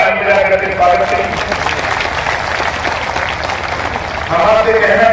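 Loud, sustained applause from a village gathering crowd, welcoming local women volunteers, with dense clapping running the whole length and a faint voice breaking through near the end.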